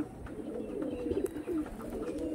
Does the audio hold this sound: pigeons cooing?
yes